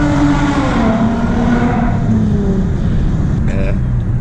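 Lexus IS350 engine accelerating hard from the driver's seat, a loud continuous rising drone that holds steady for about four seconds with a brief higher whine near the end, carrying no talk over it.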